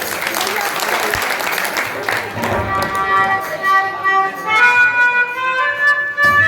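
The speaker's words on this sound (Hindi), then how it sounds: "एक बार जोरदार तालियों से इनका भी स्वागत करें" Applause from an audience at a Guru Ravidas satsang in a village, steady clapping throughout with music and voices mixed in under it.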